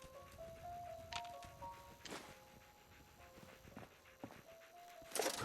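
Dogmeat, the dog in the video game Fallout 4, sniffs and pants in a series of short, quick bursts over soft, sustained game music tones.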